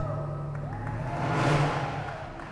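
Ram TRX pickup engine revving at an outdoor award ceremony, a low steady idle that swells into one loud rev and then eases back down, heard alone with no talk over it.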